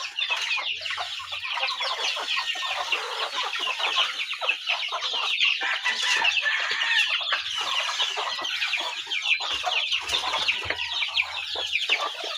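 Chickens cluck steadily while chicks chirp continuously in a busy farmyard flock, with a rooster occasionally crowing in the mix; the sound is close and dense, and nobody speaks.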